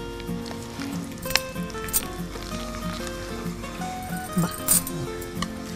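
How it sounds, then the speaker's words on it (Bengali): Gram flour fries in mustard oil with cumin seeds, giving a steady sizzle with occasional utensil clinks and stirring, heard beneath ongoing conversation. "দুই টেবিল চামচ দিয়ে দেবো আমি বেসন বেসন"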